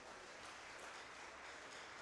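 Church congregation applauding during a Sunday service, a steady wash of many hands clapping at once, even and sustained, heard at a distance and fairly faint, with no talk over it.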